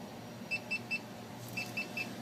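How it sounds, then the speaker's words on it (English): A two-minute lab timer beeps during a phosphonate test of cooling tower water: two bursts of three evenly spaced high electronic beeps over a low steady background hum, the second burst slightly fainter. "our 2-minute timer is up"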